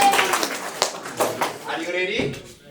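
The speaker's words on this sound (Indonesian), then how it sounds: "Tepuk tangan dulu untuk Pak Sugeng dan Ibu Frida." Audience applause at a Saturday community event, honoring a couple called up front, a short burst of hand clapping mixed with overlapping voices and chatter, fairly loud and close.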